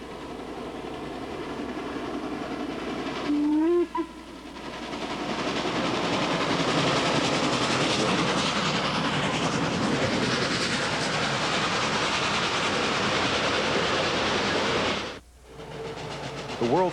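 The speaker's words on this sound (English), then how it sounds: "The world's most powerful operating steam locomotive paces stablemate number 611 during the National Railway Historical Society Convention in Roanoke." Steam locomotive running on rails alongside a second steam engine, number 611, at a railway historical convention in Roanoke; a loud, continuous rolling rumble and hiss with clattering wheels, a brief whistle-like tone near the start, then the sound drops away near the end.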